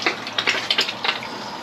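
Water trickles from the drain of a water heater being flushed, a close, fairly loud spattering hiss with uneven bursts over a short stretch, no voices.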